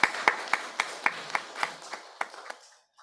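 Sparse clapping from a small workshop audience after a robotics talk, a handful of distinct claps spaced unevenly and fading over three seconds.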